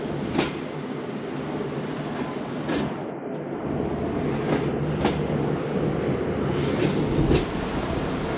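The Musapak Express passenger train running through Yusufwala railway station, a steady rumble of wheels and carriages with periodic clickety-clack joint hits, close and continuous throughout, no talk.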